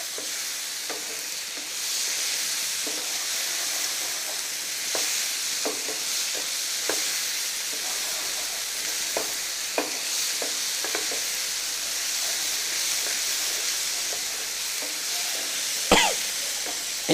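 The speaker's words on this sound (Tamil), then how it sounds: "இப்போ இந்த டொமேட்டோஸ் நல்லா சாத்தே ஆகிற வரையும் நல்லா உங்களுக்கு வந்து மேஷ் ஆகிற வரையும் நல்லா சாத்தே பண்ணுங்கள்." Tomatoes and onions sautéing in a pan for a North Indian egg masala: a steady, close sizzle of frying runs throughout, with scattered scrapes and clicks from stirring and one sharp knock near the end.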